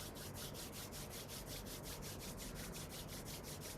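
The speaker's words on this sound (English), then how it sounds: "rub the palms" Palms rubbed briskly together at the close of a breathwork session, a soft, steady rhythmic friction of skin on skin, close and continuous with no talking.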